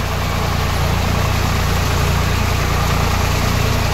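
A 2006 Swaraj 744 FE tractor engine runs in low third gear at about 1200 RPM, giving a loud, steady, close droning rumble that holds unchanged throughout with no talk.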